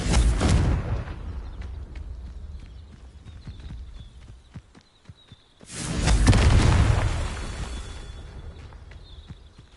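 Confringo fire spell explosions in the video game Hogwarts Legacy: two heavy, close booms, one at the start and one partway through, each swelling and rolling off into rumble, with sparse clicks and quieter game ambience in between.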